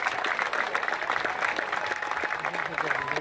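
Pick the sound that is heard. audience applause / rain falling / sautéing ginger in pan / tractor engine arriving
audience applause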